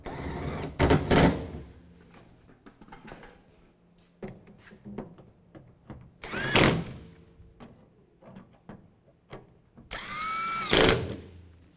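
A power tool snugs down fasteners on the tailgate of a 2007-2013 Chevrolet Silverado 1500, running in three loud bursts separated by quieter clicks and handling noise.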